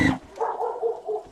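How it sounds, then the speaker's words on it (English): A neighborhood dog gives a single sharp bark, followed by a few softer, whiny yips, heard close by and alone. "One dog starts barking, the whole neighborhood."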